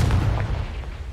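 A Confringo spell blast in the video game Hogwarts Legacy lands as a short, loud, booming burst with a rumbling low end, heard on its own.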